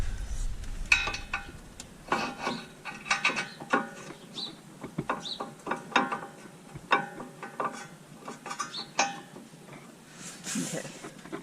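Ratcheting a wrench to tighten brake caliper bolts on a 2003 Honda Element, with quick repeated metallic clicks in short bursts, close and fairly clear, with no talk.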